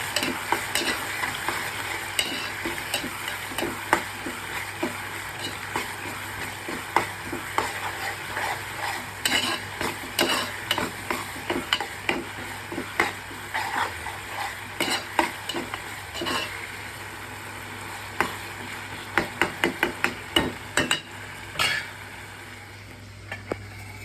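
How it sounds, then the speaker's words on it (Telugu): Tomatoes and onions soften in a pan, a low steady sizzle broken by frequent scraping, clinking strokes of a spoon stirring against the metal, close and continuous with no talking. "టమాటాలు కొద్దిగా దగ్గర పడుతున్నాయి, ఉడుకుతున్నాయి."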